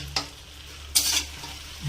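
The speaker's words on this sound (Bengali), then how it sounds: "মাছের মাথা দেওয়ার পর ভালো করে এবার আমি নাড়িয়ে চাড়িয়ে নেব।" Large catla fish heads stirred in a big frying pan (kadai) for muri ghonto, giving two short scraping, sizzling bursts over a low steady background, no voices.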